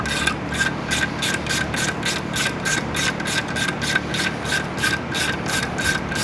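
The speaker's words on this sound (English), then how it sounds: "We'll take that spreader bolt out now." A ratchet clicks steadily as it backs a spreader bolt out of a CFMOTO CFORCE 1000/800 Gen 3 clutch during a clutch kit install, with about a dozen rapid, even bursts of close metallic ratcheting and no talk.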